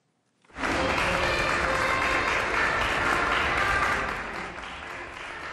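Parents clap at a Fukuoka elementary school entrance ceremony as new first-graders walk in, dense sustained applause rising suddenly and holding loud and close before easing slightly near the end.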